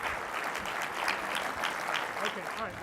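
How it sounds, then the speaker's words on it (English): Audience applause at an Interactive Advertising Bureau talk, a dense, steady clapping wash from a sizable crowd, moderately distant, with voices speaking over it. "I heard applause out there."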